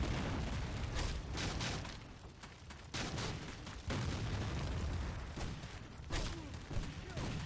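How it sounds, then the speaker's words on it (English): Grenade blasts in the video game Civil War: Secret Missions give dense, rumbling bursts of booms and crackling debris, loud and layered with no clear gaps. "I'm going to start this area off with some grenades"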